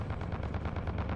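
Spaceship weapons in the space combat game Fractured Space fire in a steady rapid stream of heavy low thuds, loud and continuous, with no talking.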